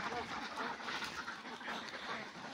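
Khaki Campbell ducks quack in a steady, noisy flock close by, with overlapping calls running throughout and no speech.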